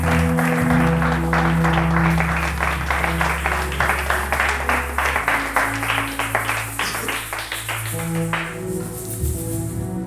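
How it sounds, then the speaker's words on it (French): A church congregation at a French-language service led by a pastor bursts into steady, dense applause and cheering, the clapping rolling on for the full stretch over sustained organ-like music. "Quelqu'un acclame le Seigneur de grâce."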